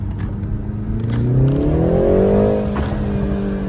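A BMW 330i engine revs in first gear at night, climbing steadily in pitch and loudness, then easing off, heard from inside the car.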